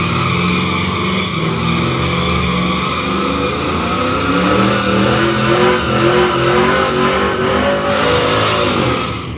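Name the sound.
drag racing car doing a burnout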